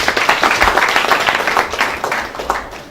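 Audience at an official courtesy visit of the ICAN President claps in a short, dense burst of applause at close range, steady throughout.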